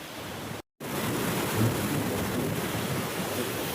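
Water rushes over the overflowing Methala dam in a loud, continuous roar of churning water. The roar drops out briefly early on, then resumes just as strongly.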